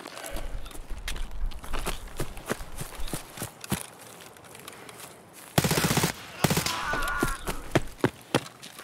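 Rapid bursts of gunfire in the video game Escape From Tarkov crackle in quick succession, sharp shots interspersed with a louder shotgun blast midway, fairly close and punchy.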